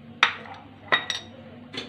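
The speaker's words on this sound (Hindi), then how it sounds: "और स्पून की मदद से इसको हम मिक्स कर लेंगे।" A metal spoon stirs fruit chaat mixed with Tang, giving three separate clinks against a bowl, close and fairly quiet, spaced out over a low steady background.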